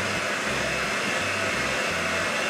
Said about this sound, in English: you can use your electric hand mixer, which I'm gonna do right here